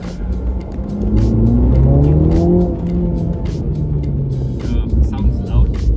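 A MINI JCW GP's engine pulls hard in second gear, its loud, throaty note rising in pitch as it accelerates, with cabin rumble throughout and a voice speaking over it.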